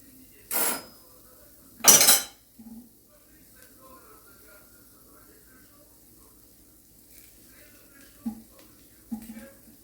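Spoonfuls of meat and vegetable filling, cabbage and tomatoes, are piled into a casserole dish, with a few sharp clinks and scrapes of utensil against the dish standing out over quiet kitchen background.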